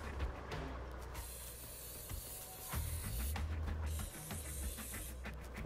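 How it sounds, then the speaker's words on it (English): Aerosol spray can hissing in the video game Infamous Second Son, with several sharp, breathy bursts of spray over a steady low rumble of game sound. "An aerosol can."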